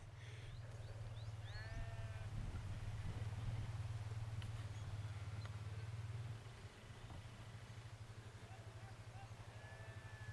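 Sheep bleat now and then over a steady low engine rumble as they are herded down a Lake District valley in Great Langdale, with outdoor ambience and faint voices in the background.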